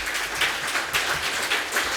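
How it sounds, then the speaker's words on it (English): Audience at a legal forum session in Dubai applauding a panelist, a brief burst of moderate clapping with a few swelling pulses, somewhat distant and soft. "A big round of applause for Hossam Zakaria."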